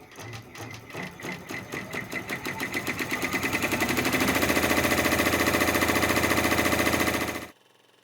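A Babylock Array multineedle embroidery machine tacks down fabric with rhythmic stitching that starts with spaced thumps, speeds into a fast continuous rattle, then stops abruptly.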